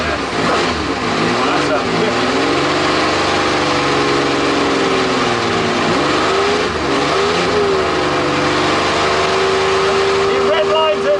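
MG Metro 6R4 rally car on a rally stage, its engine revving hard and continuously, pitch rising and dipping between gear changes, very loud from inside the car, with voices talking over it.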